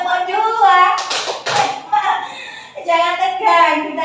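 A school gathering does the 'tepuk dua' clapping routine, a short burst of group claps in the middle, with chanting voices before and after.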